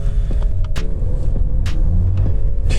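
Steady, deep exhaust rumble from a VW Golf Mk6 1.4 TSI fitted with a loud backbox-delete exhaust, close by and continuous, with a few faint clicks and no voices.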